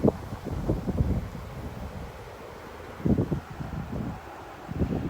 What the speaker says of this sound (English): Quite a bit of wind actually